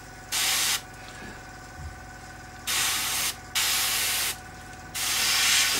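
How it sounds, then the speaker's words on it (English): Airbrush spraying from an aging compressor on a plastic scale model aircraft build, heard as four separate bursts of steady, loud hiss that each last about a second or longer, with a quieter mechanical hum filling the gaps between them. "My poor old compressor."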